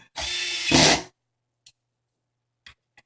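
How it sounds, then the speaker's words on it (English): A power drill tightening a skateboard nut whirs in one short burst of about a second, then quiet with a few faint clicks. "It's going to hold the nut in place while the drill does all the work on this side."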